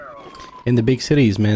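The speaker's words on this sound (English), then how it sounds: "That's the ambulance you hear, I think." An ambulance siren wails in a big city, its rising and falling tone running under loud, close male speech.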